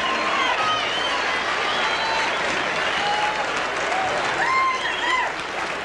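A boxing arena crowd at the close of a championship fight between Bernard Hopkins and Roy Jones Jr., sustained loud applause and crowd roar filling the whole stretch with whistles and shouts rising through it.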